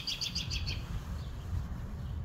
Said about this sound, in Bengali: একটা পাখি খুবই উচ্চস্বরে ডাকছে।